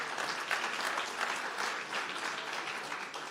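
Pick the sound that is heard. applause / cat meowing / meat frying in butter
applause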